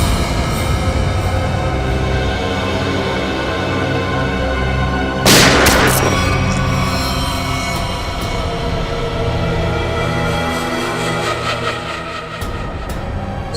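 Sharp gunshot-like blast in a Hindi TV crime serial scene, a single loud broadband crack standing out midway against a continuous dramatic music bed, with a softer burst near the end.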